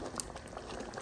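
Ofe nsala, a Nigerian white soup with yam pieces, simmers and bubbles steadily in a covered pot, a close, soft, continuous boiling patter with no voices.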